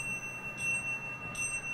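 A soft, steady bell sound made for an animation. The thin ringing tone sustains with two slight swells, quiet and alone, with no voices.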